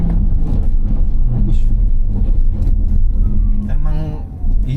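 A Mitsubishi New Xforce hybrid pulls away hard from an electric start with a loud, steady low rumble that builds as it accelerates, while people inside the car talk over it.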